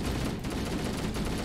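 Gunfire rings out in the video game Halo as a dense, rapid volley of heavy shots with a strong low-end boom, loud and continuous with a brief dip partway through.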